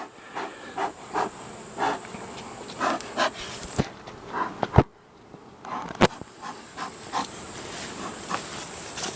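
A steady honeybee buzz hums throughout around a hive during late-summer hive work, with scattered clicks and knocks over a soft hiss, many bees working close by.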